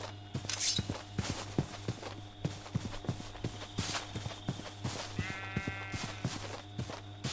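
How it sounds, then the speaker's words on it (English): Sheep bleating in the Minecraft modpack RLCraft, a short wavering bleat around the middle, heard over steady rhythmic footsteps and a constant background hum, with no talking. "Sheep."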